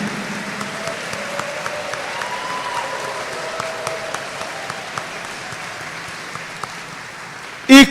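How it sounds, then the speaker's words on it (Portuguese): A church congregation at an evening Mass applauds in a sustained, moderately distant round of clapping that holds steady and ends with a sharp loud knock. "Dê uma salva de palmas para o Pai."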